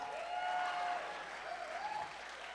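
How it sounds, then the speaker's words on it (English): Audience applause at a live talk event, faint and distant, a steady wash of clapping from a crowd lasting a couple of seconds, with a faint voice over it. "And y'all can clap."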